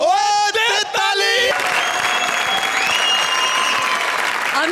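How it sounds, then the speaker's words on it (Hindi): A studio audience at a comedy show breaks into loud, dense applause. It sustains steadily close-up after a brief burst of music at the start. "ओ दे ताली!"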